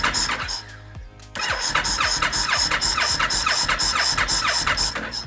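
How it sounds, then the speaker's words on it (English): A 2013 Honda VT1300 Stateline motorcycle engine cranks without catching: a steady, loud starter whir with a rapid rhythmic chug that runs nearly continuously after a brief pause early on. "you'll hear the valve, the throttle body valve set, and then we will crank."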